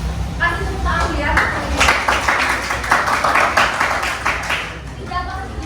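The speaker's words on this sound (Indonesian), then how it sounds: "Kasih tepuk tangan ya" A classroom group bursts into applause, a few seconds of mixed clapping from many hands with talking heard around it.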